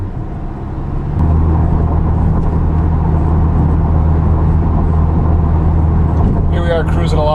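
A Camaro V6 fitted with an MRT axle-back exhaust drones loudly while cruising, a steady low engine and road rumble that swells after the first second, with a voice speaking near the end.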